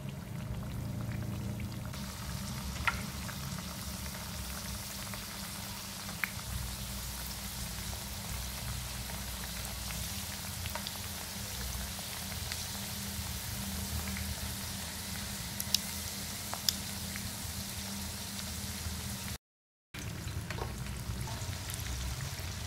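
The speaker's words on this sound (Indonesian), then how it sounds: "Dan kita masukkan martabaknya ke dalam minyak goreng yang sudah panas ya." Tofu martabak wrapped in lumpia skin sizzles steadily in hot cooking oil, a dense continuous crackle with a few sharper pops, close and fairly loud, briefly cutting out near the end.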